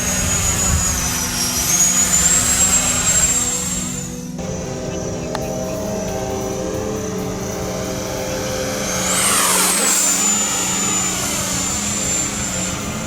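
An RC model Thunderbird jet roars loudly in flight, its turbine whine rising and falling as it passes close, fades a little, then swells again on a second pass.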